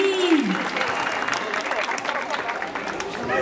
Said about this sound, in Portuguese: Palmas pra batalha.